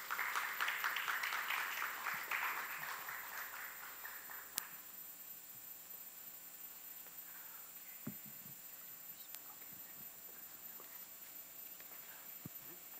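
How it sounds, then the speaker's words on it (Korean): Seminar audience applauding after a presentation is introduced, a moderate wash of clapping that tapers off over the first few seconds, followed by a quiet room with a few faint knocks and shuffles. "큰 박수 부탁드립니다."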